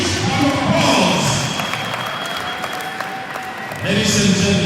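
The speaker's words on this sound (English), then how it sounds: "Can we give her a huge round of applause?" Audience applause at the opening ceremony of the Zone 6 Club Championship 2025, a sports club event: a sustained, loud burst of clapping from a crowd that dips slightly midway and swells again near the end.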